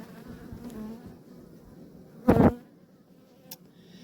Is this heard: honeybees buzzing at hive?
yes